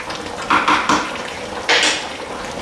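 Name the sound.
stirring oxtail and lamb stew in a pot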